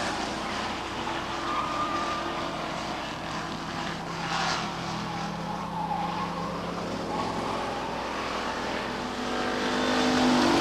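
Stock cars racing on the Lee Speedway oval, a dense continuous engine roar with layered droning tones, steady and fairly loud throughout, swelling slightly near the end, no voices.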